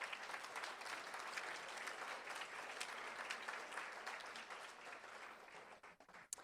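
An audience at a school board meeting applauds steadily for several seconds, a dense wash of clapping that thins and fades near the end, heard from some distance.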